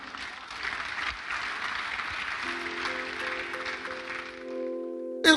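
Audience at a political rally in Nigeria applauding, a dense sustained clapping at moderate distance, fading out as a sustained musical tone rises underneath.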